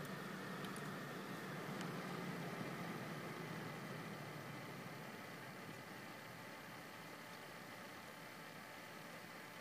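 Corsair Hydro H100 liquid cooler pump motor running inside a Cooler Master HAF X PC case, a steady broadband whir and hum, constant and unchanging throughout, no speech.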